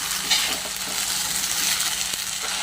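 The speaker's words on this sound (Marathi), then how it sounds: "एका हाताने मी हलवत आहे पण अशी व्यवस्थित हलवून प्रत्येक शाबू अशी सुट्टी झाली बघा" Soaked sabudana sago pearls stirred by hand in a bowl make a continuous close, wet rustling and squelching for nearly three seconds, with no talk.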